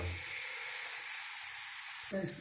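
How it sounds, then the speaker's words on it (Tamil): Ragi dosa with ghee frying on a hot pan gives a steady, close sizzle that runs throughout, with a brief stir or scrape near the end. "இப்போ ராகி தோசை போட்டுக்கலாங்க"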